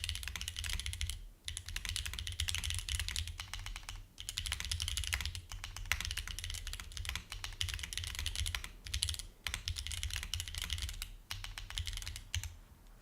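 Rapid, continuous clacking of mechanical keyboard keys, typed close up in quick bursts with brief pauses, over a low background hum.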